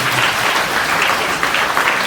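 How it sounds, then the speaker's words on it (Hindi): A school audience at an honours programme for toppers claps loudly in a brief, dense burst of steady applause. "उनके लिए हम जोरदार तालियां बजाएंगे।"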